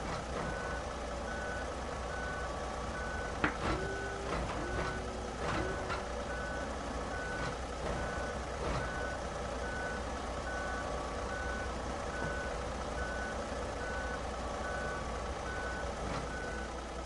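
A big truck in the off-road driving game Snowrunner reverses with a steady, evenly spaced electronic beeping that runs the whole time over a constant engine drone, with occasional soft clunks and no talking.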